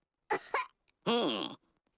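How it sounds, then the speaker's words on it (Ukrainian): Two quick, harsh coughs followed by a longer, voiced coughing fit, close up and alone against silence. "У мене кашель."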